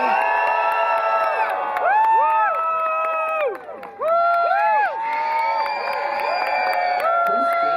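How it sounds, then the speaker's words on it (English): A crowd at a Scott Pilgrim Takes Off fan Q&A panel erupts in loud, sustained cheering, whoops and shouts rising and falling in pitch, with light clapping buried beneath the voices. "Please give a big round of applause for Mr."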